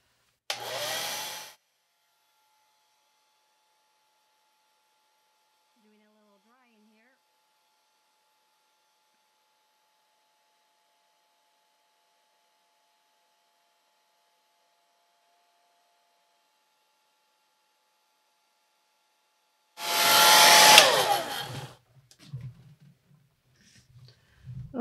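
A hair dryer blows on a wet watercolor beach painting in two brief bursts, one at the very start and one near the end. Near silence fills the long gap between them.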